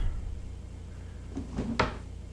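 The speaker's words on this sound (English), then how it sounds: "let's loot the drawers." Drawers in a house interior in the video game Amber Journeys Beyond slide open in two or three short, sharp scrapes and knocks over a quiet background hum.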